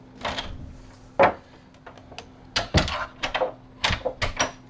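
A resistance band's door anchor is flung over the top of a home door, then the door is swung shut, giving a run of light knocks and thuds with one sharp bang and a few softer clunks at close range.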